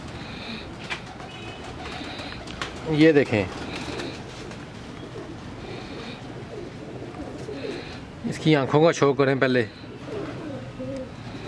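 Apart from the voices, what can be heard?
pigeons cooing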